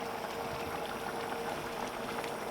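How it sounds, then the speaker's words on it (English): Ale bubbles in a pan for a steak and ale pie, a steady low simmering burble that carries on evenly throughout at a quiet, close level, with no voices over it. "while that's boiling away"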